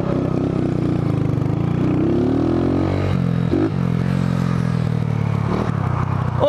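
A smoking motorcycle engine running close by during a top-speed run, its pitch rising and falling as it revs before stalling, with scraping and clattering mixed in.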